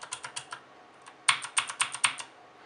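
Keys on a GAMDIAS HERMES mechanical gaming keyboard are pressed and bottom out, a quiet series of sharp, evenly spaced clicks in two short bursts with a brief pause between.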